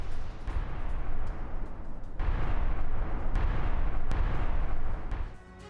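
Sustained roaring blasts from a drone strike on the Uzlovaya oil depot in Russia, which held 58 fuel tanks and caught fire; loud, dense booming rumble with several sharp bursts, continuing for several seconds before trailing off.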